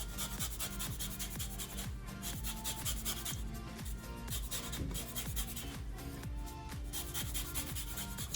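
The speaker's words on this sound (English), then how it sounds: "I'm gonna use my microplane and zest some lime on top." Lime being zested on a microplane, a steady scratchy rasping that repeats in quick strokes, close and fairly loud, with no talking.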